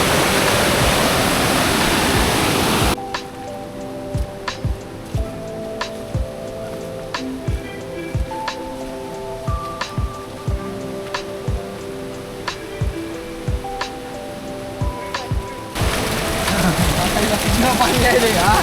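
Rushing river water at Sawatsada waterfall in the Konkan, a loud steady roar for the first few seconds and again at the end, with music in between.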